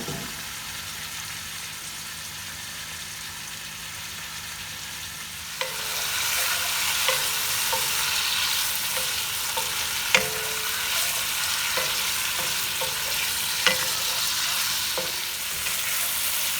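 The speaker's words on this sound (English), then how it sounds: "And now I'm going to saute this in my pan. As you can hear, already nice and hot." Pork for vindaloo hits a hot pan and starts browning: quiet at first, then a sudden loud, continuous sizzle of frying with occasional stirring scrapes and clatters, close up and without talk.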